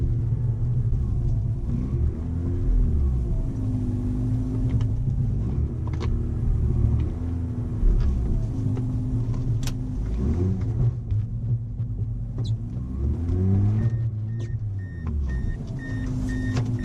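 A rear-wheel-drive Mazda RX8 on summer tyres drives through snow, its engine a steady low rumble that swells and eases with revving throughout, close and continuous with no talking.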